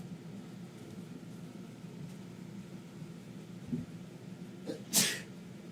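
A single sudden sneeze bursts out near the end, loud and close over a low, steady background hum, preceded by a couple of faint breathy sounds.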